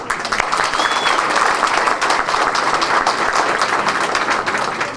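An audience at an Albanian community event in New York breaks into sustained applause. The close, dense clapping stays loud and even for several seconds.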